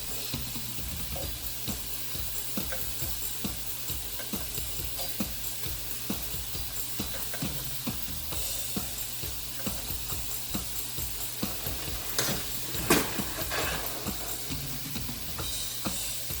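Ground beef meatballs browning in a frying pan, a continuous sizzle with rapid crackling pops and occasional clicks of forks turning them, no talking.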